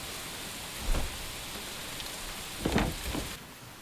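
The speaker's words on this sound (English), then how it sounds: "Yeah, the rain's a real downer in this game." Rain and thunder in the Enshrouded video game: a steady hiss of rainfall with two soft, low thunder rumbles, the second longer, and the rain fading at the end.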